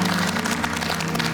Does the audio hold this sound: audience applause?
yes